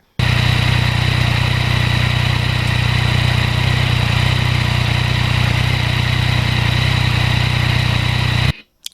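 A 2020 Yamaha MT-09 motorcycle engine idles steadily and close by, a loud, even mechanical hum and vibration that holds for about eight seconds and then cuts off abruptly.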